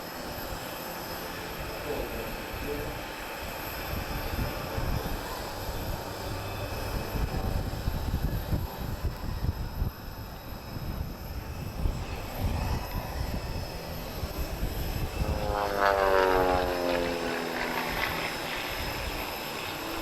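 An Airbus A320 airliner sitting on the runway at an airshow in Portugal, its engines producing a steady, fairly loud broadband roar that builds slightly, with a whining tone near the end.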